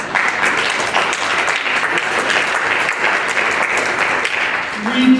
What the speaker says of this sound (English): Well, you clap for that.